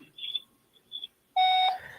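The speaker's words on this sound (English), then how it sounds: "Leave a message after the beep and I'll get back to you." A voicemail tone sounds, a single loud steady electronic beep lasting about half a second, clean and close, after a few faint chirps.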